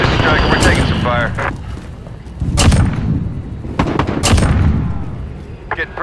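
Video game gunfire in a chaotic battle, several sharp bursts and booming shots spread across the moment, loud and close, with a player talking over the action.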